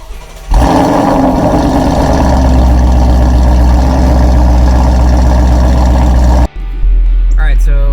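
Car engine idling after a PMAS intake install and a Bama tune, a steady low rumble close by that runs evenly for several seconds, cuts out briefly near the end, then resumes more quietly.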